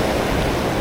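Ocean surf washes against a rocky shore at a fishing spot, a loud, continuous close rush of waves with some wind.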